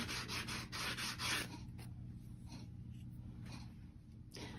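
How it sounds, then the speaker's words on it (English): A 120 grit sanding block lightly smooths the edge of a wooden piece before painting, with a few close rasping broadband strokes in the first second and a half, then softer intermittent rubs. "you can take a sanding block. This is like a 120 grit. Just lightly sand"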